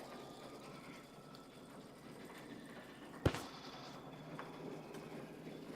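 An embroidery machine stitching out a Kimberbell design at a spa-themed sewing event, producing a quiet, steady mechanical whir with faint rhythmic ticking and a single sharp clack partway through.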